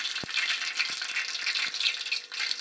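Mustard and cumin seeds splutter in hot oil, giving a continuous sizzle broken by sharp little pops and crackles at irregular intervals, close by and with no talking.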